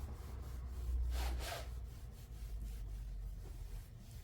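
A hand rubs across a diamond painting canvas to smooth out creases, a soft, faint brushing swish that swells once and then settles into a low quiet friction, close by.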